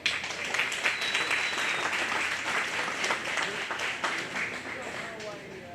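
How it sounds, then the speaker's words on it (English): A crowd applauds at a county fair cattle show after a shorthorn heifer is placed, a steady wash of clapping under an announcer's voice over the loudspeaker. "Give him a round of applause."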